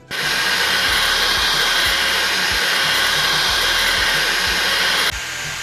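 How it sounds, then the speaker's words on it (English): A Creality Falcon2 40W laser engraver works on birch plywood, its loud steady whoosh of fan and air assist running continuously, punctuated by regular soft low thumps from the moving head before cutting out near the end. "We're gonna see how well that image can engrave on birch plywood and also cut it out."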